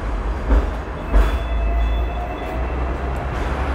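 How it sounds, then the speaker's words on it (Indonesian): An electric train rumbles overhead in Hong Kong with a loud, continuous low roar. Faint rhythmic wheel clatter and a few louder thumps sound over it, and no voices can be heard. "di atas itu ada kereta, ada kabel listriknya"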